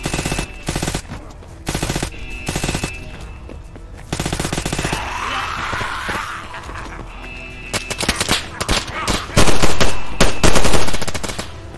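Gunfire in the survival video game DayZ: loud bursts of automatic fire and rapid shots crackle throughout, with a heavier, louder volley near the end, and no speech over it.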